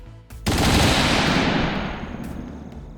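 Musketeers fire a volley of gunfire, a loud massed crackling blast that breaks out suddenly and rolls on for a couple of seconds before slowly fading.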